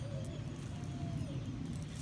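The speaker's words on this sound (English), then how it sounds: "I know you all hear the birds every day" Birds call in a backyard vegetable garden, a faint cooing like doves over a steady low outdoor rumble, distant and without talk.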